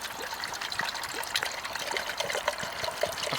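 Water pours into a large cooking pot outdoors beside a fire setup, a close steady trickling splash with small bubbling bursts, no voices.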